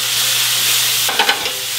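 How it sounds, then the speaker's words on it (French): Potatoes and onions with garlic frying in a pan for a hearty omelette, a loud continuous sizzle broken near the end by a few quick scraping turns of the spatula, with no voices. "Tourne et retourne. Pommes de terre, tourne et retourne."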